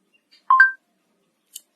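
Smartphone call ending with a brief two-tone electronic chime as the line disconnects, followed by a faint tiny click in silence.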